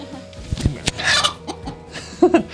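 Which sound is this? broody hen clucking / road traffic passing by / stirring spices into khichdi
broody hen clucking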